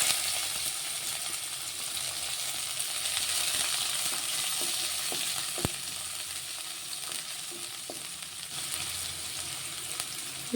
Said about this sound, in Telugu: కొంచెం ఉల్లిగడ్డ ఫ్రై అవ్వాలి